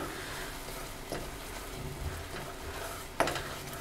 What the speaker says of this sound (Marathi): ते ढवळून घेते।